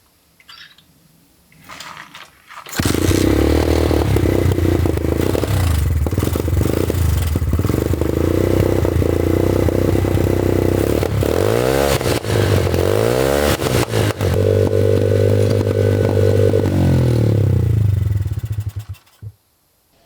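A pit bike engine, fitted with a new air filter, starts up and runs loud and close for about fifteen seconds, rising and falling through a few throttle blips before cutting out.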